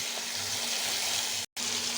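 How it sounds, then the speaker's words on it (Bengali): Stalks sizzling as they fry in hot oil for a hilsa fish dish, a steady broadband hiss that runs continuously, cut by a brief silent gap just before the end. "এখন ডাটাটি বাজ্যা নেব, তেলের মধ্যে একটু বাজ্যা নেব"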